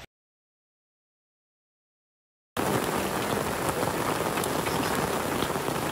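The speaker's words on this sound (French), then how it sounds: "Il grêle." Hail and rain pelt a surface, starting abruptly after a couple of seconds of silence and continuing as a dense, loud patter.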